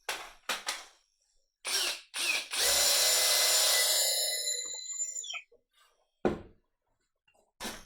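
A power drill whirs steadily for a few seconds drilling a bolt hole in wood, preceded and followed by short bursts and clicks of the tool, close and fairly loud.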